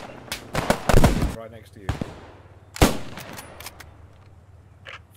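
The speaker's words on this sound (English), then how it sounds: "A machine gun." Gunfire in the World War II shooter Post Scriptum, a rapid burst of close, loud shots followed by a single sharp crack, with a player speaking between the shots.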